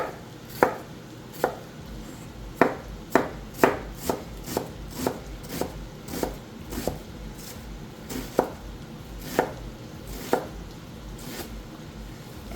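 An onion being chopped on a cutting board produces a string of crisp, close knife thuds in an uneven rhythm, some in quick bursts and others spaced apart, with no one speaking.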